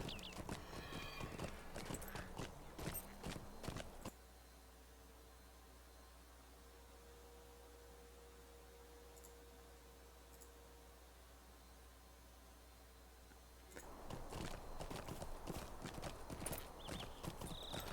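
Horse hooves clip-clop at a steady walking rhythm in the Lord of the Rings Online game, loud and close. They fade to a faint hum in the middle, then the hoofbeats return at the end.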